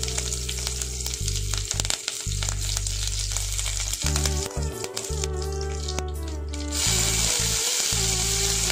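Fenugreek seeds, cumin and curry leaves crackle and sizzle in hot oil, a steady loud frying hiss with a few short clattering stirs, no voices.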